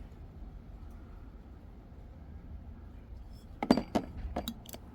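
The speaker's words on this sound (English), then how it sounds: "I just need to stir it around quickly." A spoon stirs lemon verbena lemonade in a glass, clinking sharply against the sides several times in a quick cluster after a quiet stretch of faint background hum.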